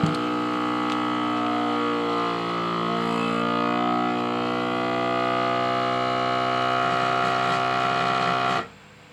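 A vacuum sealer runs with a loud, steady motor whine and droning pump tones whose pitch shifts slightly as the bag draws down, continuing for about nine seconds before cutting off abruptly.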